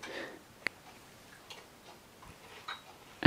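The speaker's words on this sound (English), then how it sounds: "you can just hear it sort of clicking. It just sort of like ticks over." A Skywatcher Star Adventurer tracking mount set to celestial speed ticks over with faint, sparse clicks from its motor, spaced irregularly against quiet background hiss.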